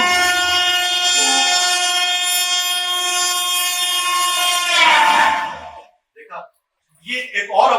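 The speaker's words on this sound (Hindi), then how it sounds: "अभी तो एक रेलगाड़ी गई, अब दूसरी पता नहीं कब आएगी।" A train passing with a long, loud, steady horn blast that holds for several seconds, then swells and cuts off, followed by brief scattered noises.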